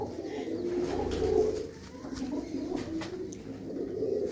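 A female pigeon coos close by, low throaty rolling calls repeating over a few seconds against a faint background.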